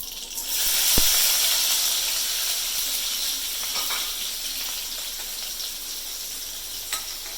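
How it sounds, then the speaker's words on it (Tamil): Onions dropped into hot oil with mustard seeds for a Tamil fish curry, a sharp crackle at the start settling into a steady, bright sizzle with occasional pops. "நல்லா கடுகு வடிச்சிட்டு வெங்காயத்தை போடுறேன்."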